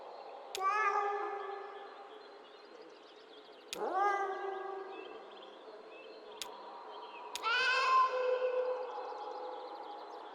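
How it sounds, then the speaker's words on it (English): Cat meows from the video game Kentucky Route Zero: four separate plaintive mews spread over about ten seconds, each a bright rising-then-falling tone, clear and fairly close against a faint steady background. "That's right, meow down the hole."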